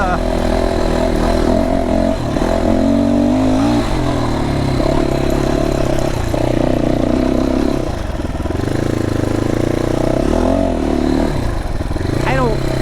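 FSE300R dirt bike engine droning steadily as the bike rides a woodland trail strewn with logs, with a continuous mid-range hum that dips and swells slightly with throttle, while a rider talks over it.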